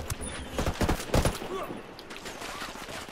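Bursts of gunfire in the tactical shooter game Ghost Recon Wildlands, several sharp overlapping shots clustered early then thinning to scattered pops, moderately loud with faint background noise.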